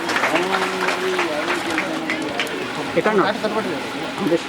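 A crowd claps at a temple palanquin festival, Adda Pallakki Utsava, at Sri Marulasiddeshwara Temple. Dense, close applause fills a few seconds, mixed with crowd chatter and a voice speaking over it.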